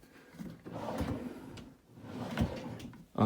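Drawer of a Realspace DeJori 59-inch L-shaped charcoal desk with hutch and metal handles being slid open and shut: two soft sliding rumbles, close and fairly quiet, ending in a light bump.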